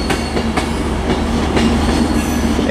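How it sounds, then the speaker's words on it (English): A Virgin passenger train, the service to London Euston, rolls through Manchester Piccadilly station on the West Coast Main Line, loud and close, with a steady rumble and repeated rhythmic clicks of wheels over rail joints, no voices. "that's 1555 Virgin train service to London Euston with 39117"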